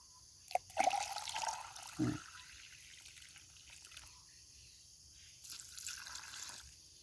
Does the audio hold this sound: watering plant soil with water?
yes